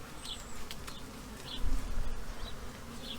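Honeybees buzz around an open hive during an inspection, a close, continuous droning hum with a few individual bees whining past nearby, fairly faint and without talk.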